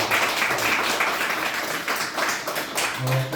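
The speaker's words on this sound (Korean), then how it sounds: "우리 모두 함께 감사하는 마음으로 우리 하나님께 영광의 박수 올려드리겠습니다" A Korean church congregation applauds during a Sunday worship service, a steady wash of many hands clapping together in a large room, fairly loud and continuous throughout.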